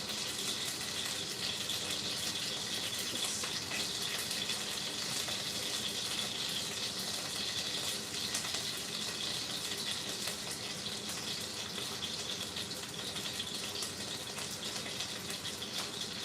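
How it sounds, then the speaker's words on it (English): Hot oil splashing and hissing as chicken fries in a pan, a dense continuous sizzle with a rushing, water-like texture, steady and close throughout. "That is splashing oil"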